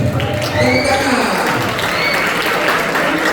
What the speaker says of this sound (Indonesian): Tepuk tangan untuk Pepi.